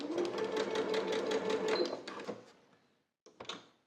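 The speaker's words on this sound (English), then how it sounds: "I'm going to baste in place with a 3/8 inch seam allowance." A sewing machine basting pleats in place on pants with a 3/8 inch seam allowance, a steady rapid needle chatter for about two seconds that winds down, then a brief mechanical clunk.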